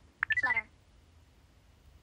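Apple Watch watchOS 11 'Flutter' ringtone: a short, quick run of light beeping chirps lasting about half a second, followed by quiet, played alone.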